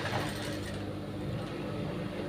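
A sewing machine runs steadily while stitching blouse sleeves for patchwork, giving a continuous close mechanical whir with a fine rattling texture.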